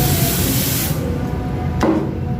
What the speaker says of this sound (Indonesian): Ini adalah change loop, semprotan untuk rantai motor guys.